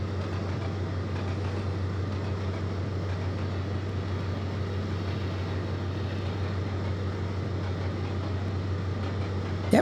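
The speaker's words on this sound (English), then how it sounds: "Right, let's really start slowing this train down now." Intercity 125 train slowing down in the Trainz Plus simulator game, a steady low engine drone and rolling rumble that holds an even level throughout with no talk.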